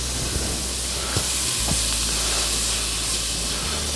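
Butter sizzles with onions in a stew pot for chicken stew, a steady, close, broadband frying hiss that runs continuously with a few faint stirring knocks.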